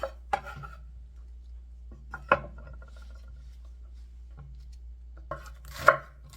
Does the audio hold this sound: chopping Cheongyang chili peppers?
yes